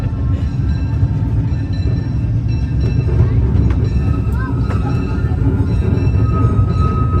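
A train runs at Disneyland, giving a steady loud rumble and clatter that lasts the whole time, with faint squeals and crowd murmur over it.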